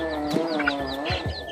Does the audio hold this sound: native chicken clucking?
yes